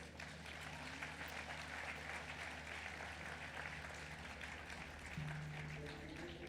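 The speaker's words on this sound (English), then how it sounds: "Let's welcome the panel on stage with a huge round of applause." A literary festival audience applauds as a panel of authors takes the stage, a broad, sustained wash of clapping heard from a distance, soft and steady with a faint hum beneath.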